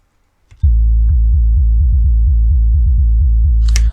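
A synthesized kick drum shaped like an 808 but punchier repeats in a steady, loud pattern of deep pitched booms with short attacks, ending in a brief bright burst.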